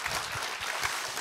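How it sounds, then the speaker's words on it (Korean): An audience claps at a Korean memorial talk concert honouring Cardinal Kim Sou-hwan, a steady, dense wash of applause from a full hall, loud and continuous throughout with no voices standing out. "큰 박수로 한번 쳐서"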